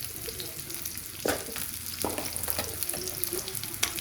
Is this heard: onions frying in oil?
yes